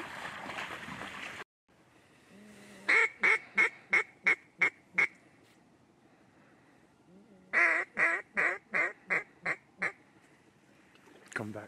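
Ducks quack in two bursts of rapid, loud, evenly spaced calls during a waterfowl hunt on open water, separated by a quieter stretch with faint background noise.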